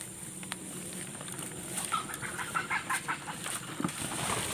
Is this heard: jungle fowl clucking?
yes